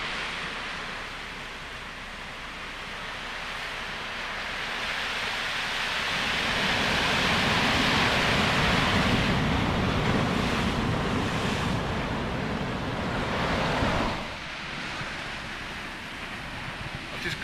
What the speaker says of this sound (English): The sea's not messing about, like. It's serious. It's rough. Rough as can be. Look at these waves.